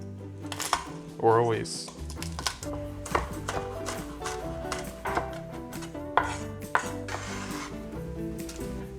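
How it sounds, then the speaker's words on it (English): Knife chopping garlic cloves on a cutting board, a series of close, crisp taps in an irregular rhythm, with a person talking briefly between the cuts. "Now we're gonna chop up 2 cloves of garlic, is what it says."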